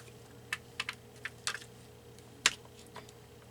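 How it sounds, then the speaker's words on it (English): Scissors snip paper flower strips for a stamped card: a handful of sharp, faint, irregular cuts close by, with quiet gaps between. "And then I need my scissors to cut these because these come in strips."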